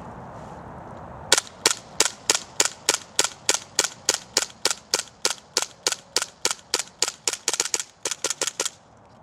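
Rapid string of sharp shots from a WE PX4 pistol at an outdoor pistol engagement range, about twenty-five evenly spaced reports fired in quick succession, loud and close, with no talking.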